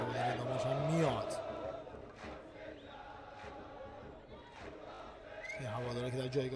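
Damash football fans in a stadium chanting and cheering for their team during a live match against Pars Jonoubi Jam, a distant roaring crowd with rising shouts, under a commentator's steady talking.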